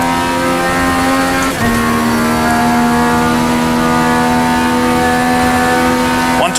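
A race car with a sequential gearbox in iRacing drones loudly at a steady pitch, with a brief dip and blip as it shifts gear, then holds high revs.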